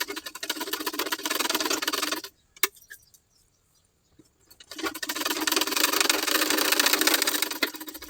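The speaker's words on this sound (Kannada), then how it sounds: "ಈಗ ಮಾರ್ಕ್ ಮಾಡ್ಕೊಂಡಿರೋದನ್ನು ಸ್ಟಿಚ್ ಮಾಡ್ತಾ ಇದ್ದೀನಿ" A sewing machine stitches a blouse lining onto the main fabric, its motor whirring steadily and loudly, falling silent for about two seconds, then running again, with no voices.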